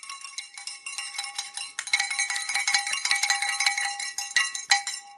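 A small hand bell rings steadily in a home craft room, a bright, continuous metallic jingle of rapid repeated strikes, close and fairly loud, with no voices over it.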